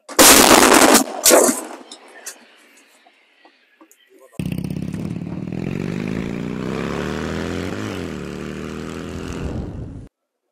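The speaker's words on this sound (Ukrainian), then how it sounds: "Постріл!" An artillery gun fires in counter-battery work with a sharp, deafening blast and a quick second boom that echo away. A loud, steady engine-like drone follows.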